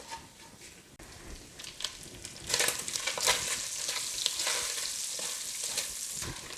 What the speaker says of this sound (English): I'm just going to fry the bacon until it's crispy